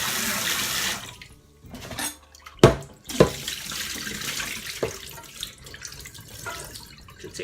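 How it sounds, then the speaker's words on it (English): Beef being washed under running water at a kitchen sink while making banga soup: tap water splashing and pattering continuously, with a couple of sharp louder splashes and clatters partway through, close and without talk. "Wash your beef, wash it properly."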